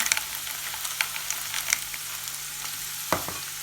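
Green pepper and a few frozen peas are sautéed in a hot pan, giving a steady close sizzle broken by several light stirring clicks and one sharper scrape near the end.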